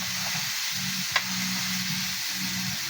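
Chicken gizzards frying in a pan with long green chili and a splash of soy sauce, giving a steady close sizzle with soft rhythmic stirring and a single light clink from a utensil.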